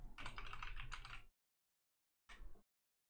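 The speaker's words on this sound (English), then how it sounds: "the first thing that you want to do is just write your email and password" Keys clatter on a computer keyboard while an email and password are typed into a sign-up form: a quick quiet burst of keystrokes, a pause, then a short second flurry.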